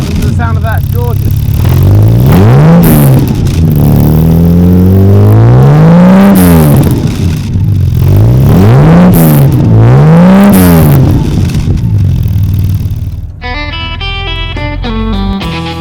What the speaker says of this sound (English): Listen to the sound of that, it's gorgeous.